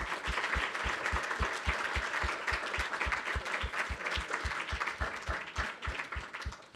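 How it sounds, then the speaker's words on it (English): Conference audience applauding an expert panel at a European LGMD2I/R9 community meeting, a sustained round of clapping with a steady rhythmic beat of claps running through it, no talk. "give a round of applause to our experts for taking their time"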